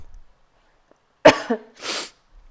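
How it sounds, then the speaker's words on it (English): A single sharp cough breaks the quiet, followed by a short throaty rasp and a breathy exhale. "I hope I'm not like sniffling and coughing a bunch."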